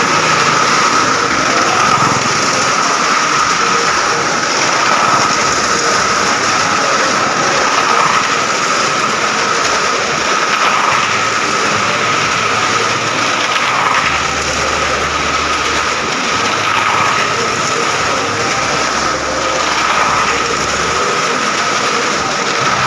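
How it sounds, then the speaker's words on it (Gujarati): A Bullet motorcycle riding around inside the well of death at a village fair: a loud, continuous engine drone with a steady pitch that circles on for over twenty seconds, with crowd and fair noise beneath. "આખા કૂવામાં ઘુમાડ્યો ભાઈ બુલેટ બાઇકને"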